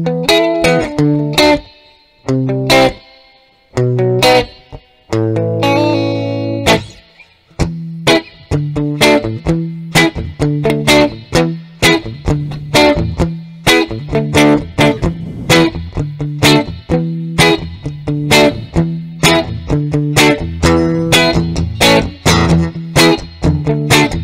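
An electric guitar plays through a Fender Blues Deville Reissue amplifier with reverb switched on and volume wide open, giving loud chords and single-note phrases whose tails ring out between stabs, with no talking.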